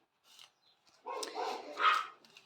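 Indoor dogs whimper and whine in short, uneven bursts that are quiet at first, then grow into a louder, longer cry near the end, with no talking.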